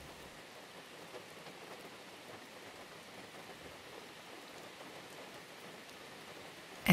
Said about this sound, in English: And the rain keeps pouring down on the rooftop of that pavilion.